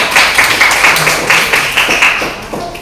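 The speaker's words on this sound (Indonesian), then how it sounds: "Tepuk tangan untuk kelompok 4." A classroom of students claps for a presenting group, with loud, close, brisk claps in an uneven rhythm lasting a few seconds before tapering off, with no talking.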